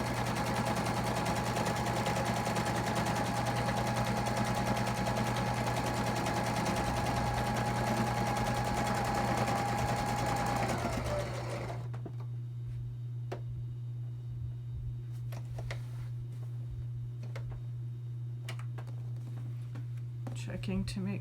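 A sewing machine stitches a quilted placemat toward the corner with a steady, close mechanical whir that stops partway. Scattered ticks and clicks follow against a low hum.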